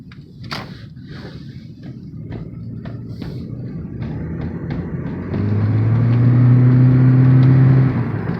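A Toyota car accelerating, driven during quarantine: a steady engine hum and road noise that swells into a louder, rising drone near the end, heard from inside, with no talk.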